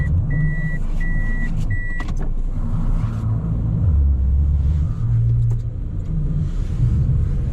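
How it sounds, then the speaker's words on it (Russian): A car drives past on a frosty winter road, a low rumbling engine and tyre noise swelling and fading, joined by a few short electronic beeps near the start. "Какая-то машина едет."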